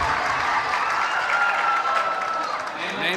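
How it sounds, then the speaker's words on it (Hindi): Audience applause at an Urdu poetry mushaira in Mangrol Pir, with steady dense clapping throughout, tonal calls of appreciation and voices mixed in over the crowd. "एक बार जोरदार तालियां बजा के मुझे इजाजत दो"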